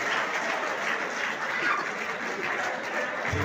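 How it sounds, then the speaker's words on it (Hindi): Audience applause at a stand-up comedy show, a continuous wash of clapping from the crowd, fairly loud and steady throughout. "तालियां कमजोर है पर जोरदार तालियां बजाइए।"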